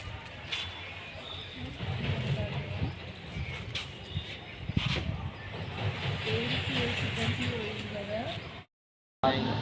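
A goods train hauled by a WAG-9 electric locomotive rolls into Nampally station, a broad low rumble with hissing and clanking under the noisy platform bustle, while people talk nearby.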